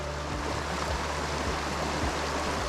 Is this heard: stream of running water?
yes